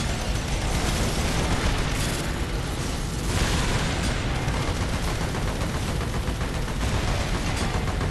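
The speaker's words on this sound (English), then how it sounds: "Explosion's not very big on this thing, though, that's for sure." Continuous explosions and gunfire from the video game Earth Defense Force: Insect Armageddon, a dense, loud, unbroken barrage of blasts and booms with no voices.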